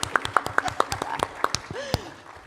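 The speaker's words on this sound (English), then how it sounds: "I feel like we should clap." Audience clapping at a panel discussion: a rhythm of distinct, moderately paced claps that thins out toward the end, with voices murmuring softly underneath.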